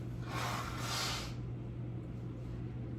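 A single nose blow, a short breathy snorting burst of about a second, close and fairly soft, followed by quiet background hum during a home resistance band workout.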